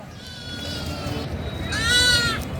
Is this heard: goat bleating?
yes